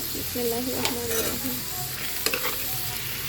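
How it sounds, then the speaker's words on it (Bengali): Mixed vegetables stirred as they fry in a pan, a soft continuous sizzle with scraping stir strokes and occasional clinks, a voice speaking quietly over it. "এখন আমি এগুলো ভালো করে মিশিয়ে নেব এই সবজিগুলোর সাথে"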